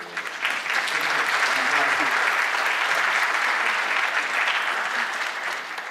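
Sustained audience applause at a school primary-grade performance event, a dense steady wash of many hands clapping loudly for about six seconds with no pauses.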